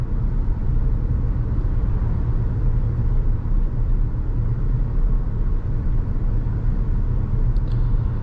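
Cabin of a 2014 Audi Q7 Premium Plus 3.0T driving on the road: a steady, smooth low rumble of engine and tyres, constant and close with no talk over it.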